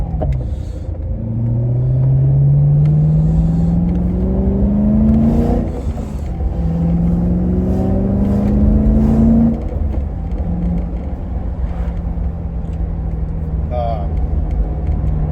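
A BMW E90 M3 with a swapped six-speed manual revs loudly from inside the car, its engine note climbing and dropping with throttle blips on downshifts, and someone talks over it.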